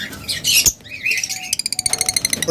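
Caged birds at a bird market squawk and screech in loud overlapping calls, then break into a fast, evenly spaced run of sharp chirps close by.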